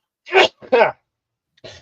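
Two quick sneezes in close succession, loud and near, followed by a brief softer vocal sound.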